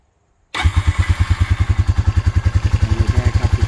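A Honda Rancher ATV running on a weak battery cranks and catches after silence, then settles into a loud, steady, rapidly pulsing idle close by, with no talking.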